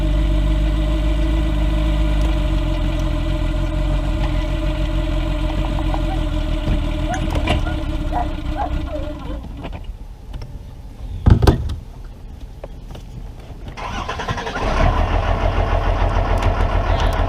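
A boat motor idles steadily at a high-altitude reservoir, rough and struggling, fading to quiet midway with a thump before the idle returns.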